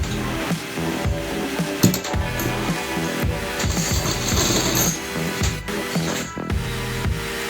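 Sewing machine stitching fabric for a palazzo, a continuous close mechanical whir with uneven taps and clatters throughout, no voices.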